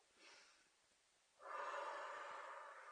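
A person takes a deep breath in during a relaxation exercise, a soft airy rush that swells and holds for over a second, close and fairly quiet, alone without talk.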